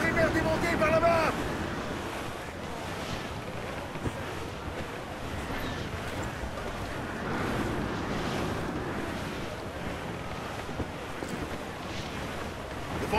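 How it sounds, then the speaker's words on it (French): Wind rises and waves churn around a sailing ship at sea in Assassin's Creed IV: Black Flag, a dense, continuous roar that swells and eases over several seconds, with a brief tonal cue near the start. "Le vent est en train de se lever, capitaine."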